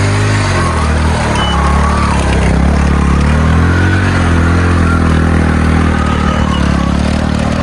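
A motorcycle runs steadily along a badly broken, muddy track near the Satluj river, its engine droning loud and close with a continuous low rumble and rattling throughout.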